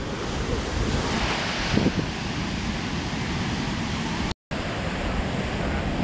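Sea waves break on a beach shore at Cancun, where the slope down to the water is steep. The steady, loud surf is heavily mixed with wind buffeting the microphone, with one surge swelling near the middle and a short dropout later.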